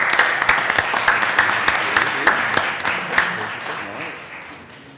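Brief applause at a Flint city council meeting, a modest group clapping with distinct individual claps audible in the mix, fading out toward the end, with some voices underneath.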